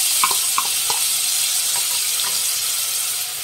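Boiled green peas stirred into a frying pan of spinach rice, giving a steady close sizzle with a few light scraping clicks from the spoon near the start; no voices.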